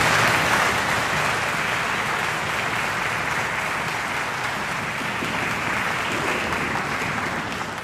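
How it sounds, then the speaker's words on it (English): A large concert audience at a summer music camp finale gives camp staff a loud, continuous round of applause, dense and even throughout, easing slightly at the very end. "So could I have a huge round of applause for the three of them?"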